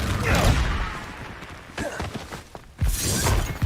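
Confringo blasting spell cast during combat in the video game Hogwarts Legacy: loud, close explosive bursts with crackling, shattering debris, three main blasts spaced about a second apart over continuous rumbling battle noise, with a voice faintly present.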